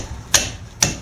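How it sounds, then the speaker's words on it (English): A ratchet is struck hard to break loose a bolt during front wheel bearing work on a 1992-1999 Pontiac Bonneville, giving two sharp, close metallic knocks with a third starting at the end. "You just saw me whack the ratchet there."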